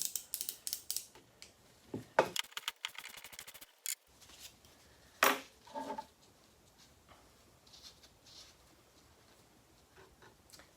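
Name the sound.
loosening and removing the strut nut on a Toyota 4Runner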